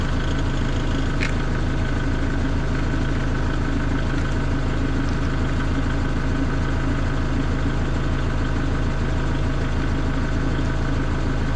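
A brand-new generator runs at a steady idle nearby, its low engine drone and even mechanical throb holding constant without change in pitch or loudness throughout.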